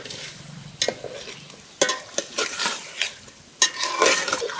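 Shing catfish going into sizzling spiced masala in a pan, a steady fry hiss broken by several sharp scraping stirs and clatters, close and alone without talk.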